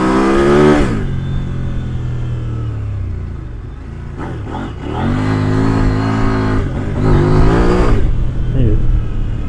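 A KOVE 800X mid-size adventure motorcycle climbs a small hill, its engine loud and close as it revs up, eases off, then pulls hard again, with wind buffeting throughout.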